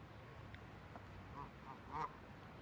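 A goose gives a few faint, brief honks outdoors, scattered over a quiet background hiss, the last call slightly louder than the others.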